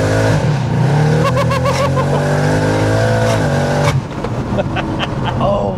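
A BMW M140i with a big turbo kit, around 600 bhp, accelerates hard and loud at half throttle, the engine note climbing steadily through the revs before a sharp shift and renewed pull.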